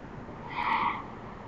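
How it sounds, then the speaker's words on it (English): A car's brakes squeal faintly outside, caught by a security camera: one thin, short whine rises and fades over steady background hiss. "You can hear that person getting a little frothy on the brakes there and squealing a little bit"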